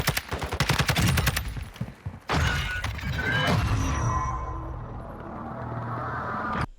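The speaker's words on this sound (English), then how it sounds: "Granny's got a shotgun, but still. Shoot him, my guy." Shotgun fire in the video game Warzone 2, a rapid string of sharp blasts up front, then a heavy boom with a ringing, fading tail.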